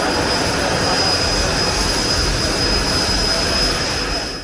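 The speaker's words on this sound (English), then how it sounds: "jet-powered vehicles stole the spotlight. These machines are essentially airplanes skimming the ground, generating extreme thrust and sound." A jet-powered ground vehicle's engine roars loud and unbroken, a broad rushing blast with a piercing high whine running through it, holding steady before easing off slightly at the end.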